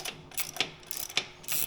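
A ratchet wrench with a socket clicks in short, uneven bursts while removing a bolt during a crash bar install on an Indian Sport Chief motorcycle, close and fairly quiet.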